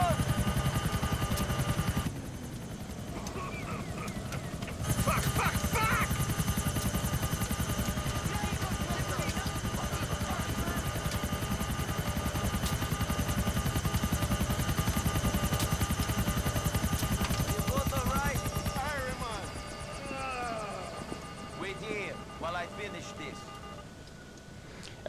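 Helicopter in Grand Theft Auto 4, a steady droning rotor and engine hum with a tonal whine that runs throughout, then thins and fades near the end while a person talks over it.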